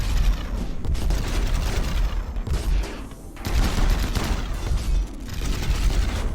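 Gunfire from a RimWorld battle: dense, continuous volleys of shots and booms crackling loudly with no break, heard alone without talk.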